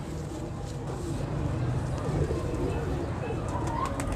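An old-breed Kasuri pigeon coos in low, repeated murmurs up close, while people talk over it the whole time.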